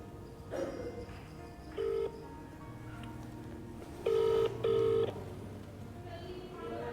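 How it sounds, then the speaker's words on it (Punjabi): Several short electronic keypad tones beep one after another at uneven intervals, with a low background hum and faint talk. "ਹੁਣ ਤੇ ਸੁਖਵੀਰ ਨੂੰ ਇੱਕ ਵਾਰ ਫੋਨ ਲਾ ਕੇ ਪੁੱਛ ਲਓ"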